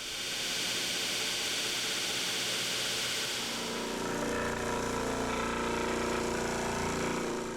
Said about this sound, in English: That 12-inch disc sander does a nice job.